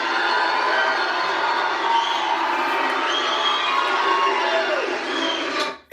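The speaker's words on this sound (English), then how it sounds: "This is a very energetic crowd, isn't it?" An energetic crowd cheers at a political rally. The sound is a steady, distant-sounding roar of voices and shouts that holds for several seconds and then cuts off abruptly at the end.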